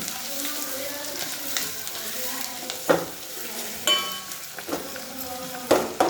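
Vegetable and soaked masoor lentils sautéing in a pan on the stove, a steady close sizzle broken by repeated scraping stirs and a few sharp clinks of the spoon against the pan.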